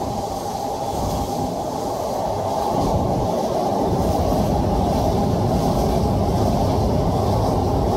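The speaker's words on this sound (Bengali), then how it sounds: "আমাদের ট্রেনটি এখন পদ্মা সেতুর উপরে উঠছে" Madhumati Express train rolling onto the Padma Bridge over the Padma River, a steady, loud low rumble of wheels and carriage noise that holds unbroken throughout.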